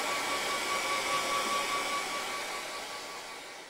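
Hair dryer blowing over a watercolor painting of a full moon, a steady loud whooshing roar with a faint whine that holds for several seconds and eases slightly toward the end.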